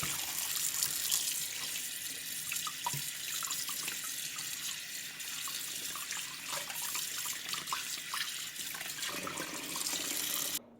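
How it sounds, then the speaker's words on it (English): Cold tap water runs steadily into a sink while a snapper is rinsed, a continuous close splashing hiss with small drips and gurgles throughout. "Put a little cold water on. Just rinse your fish off."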